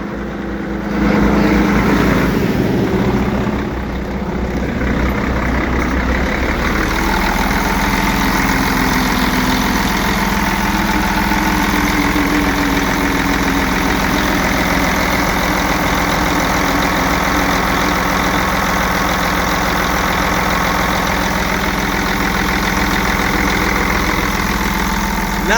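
A Sterling truck with a Mercedes engine idles in a steady, low, rumbling drone that holds loud and even for the whole stretch, with a brief rise near the start and no voices.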